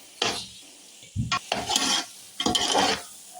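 Egg halwa is stirred and roasted in ghee in a pot, giving three close bursts of scraping, sizzling stirring with short pauses between them and no talking.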